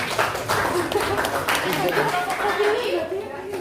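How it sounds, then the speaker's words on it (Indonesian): A classroom of students claps for a student group, with dense, steady clapping mixed with loud chatter throughout. "ya tepuk tangan buat kelompok 2."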